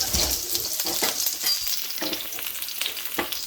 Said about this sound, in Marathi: यामध्ये मी जे आपण 4 मिरच्या उभ्या कट करून घेतलेल्या त्या मी फ्राय करायला टाकल्या